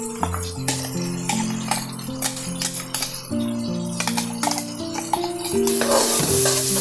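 Mixer-ground paste for a village-style mutton curry hitting a hot pan, with steady sizzling frying under metallic stirring clinks and scrapes of a spoon against the pan, close and fairly loud throughout.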